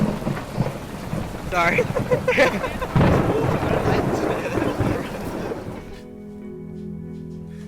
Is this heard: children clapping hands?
no